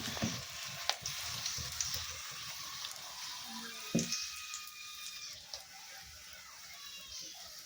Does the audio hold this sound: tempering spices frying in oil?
yes